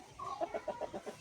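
A native country rooster calls a hen down to lay her egg, giving a drawn-out note followed by a quick, rhythmic series of about six clucking pulses, close and alone.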